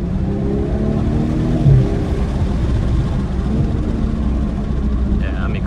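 Exhaust of a 2022 BMW M240i drones steadily while it drives, a continuous low rumble heard from inside the cabin, fairly loud and even, without noticeable revving swells.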